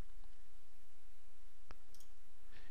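A computer mouse gives a single sharp click near the middle, with faint quieter taps after it, in a quiet room while a Photoshop workspace panel is resized.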